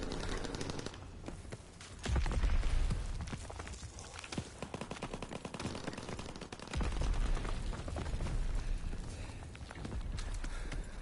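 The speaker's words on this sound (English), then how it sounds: "That was actually the first time ever I've heard footsteps." Footsteps thud and tap in a WW2 shooter game, steady and fairly close, mixed with bursts of gunfire and low rumbling game sounds across the whole stretch.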